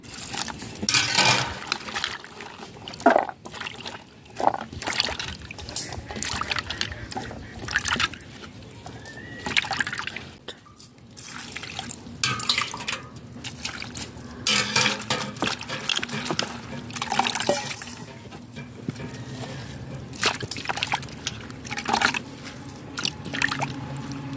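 Cut potatoes and onions are washed by hand in water, giving close irregular splashes, squishes and trickles that continue for the whole stretch, with faint bird calls in the background.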